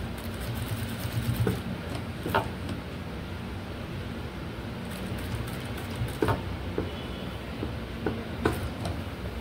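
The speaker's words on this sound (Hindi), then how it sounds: "तो अब मैं इसको ऐसे रख के सिलाई मारूँगा।" A sewing machine stitches a skirt belt in a tailoring boutique, giving a faint steady whir broken by soft, irregular ticking clicks, with no talking.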